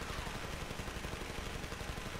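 Rapid submachine-gun fire from Hellgate London, a dense, continuous burst of fast shots at a fairly low level with no pauses across the short stretch.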